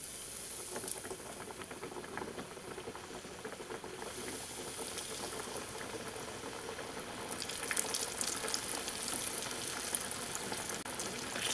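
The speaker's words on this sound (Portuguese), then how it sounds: "Numa panela ou numa frigideira com óleo quente, eu vou começar a fritar os peixes." A steady crackling sizzle of fish frying in hot oil continues throughout, growing slightly louder toward the end, with no talking.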